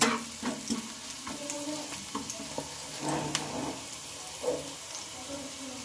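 Chopped vegetables, including green chilli, fry lightly in oil in a pan for a bread fry, giving a steady soft sizzle with occasional scrapes and clicks of stirring, with no talking.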